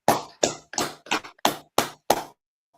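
A group claps together in unison, giving seven sharp, evenly spaced loud claps followed by silence.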